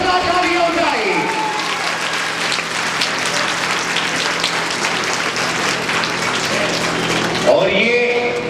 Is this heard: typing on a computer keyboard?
no